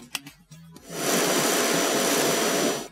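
A cordless lightweight vacuum cleaner kicks on after a few soft clicks, its suction motor settling into a loud, steady, close whirring hiss for about two seconds.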